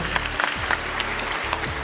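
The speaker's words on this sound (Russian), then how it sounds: "И раздались аплодисменты той самой маме" Applause from the room at a press conference, offered to a contestant's mother: steady dense clapping throughout, moderately close, with no speech over it.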